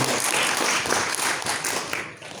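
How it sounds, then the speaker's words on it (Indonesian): A church congregation applauds at a Sunday worship service, a dense, steady wash of many hands clapping together that stays loud throughout and fades slightly at the end. "Ya, mari tepuk tangan semuanya."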